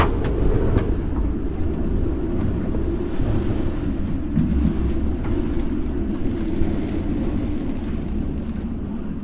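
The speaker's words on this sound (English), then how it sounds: "this is a significant little increase in wind speed here now" Strong wind blowing across a sailboat at anchor, a loud continuous roaring rumble with heavy buffeting on the microphone that holds steady for the whole stretch.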